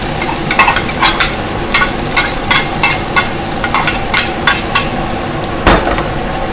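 Pork stir-fries for pad see ew in a hot pan under a constant sizzle, with a spatula scraping and clanking in quick, regular strokes, near and loud.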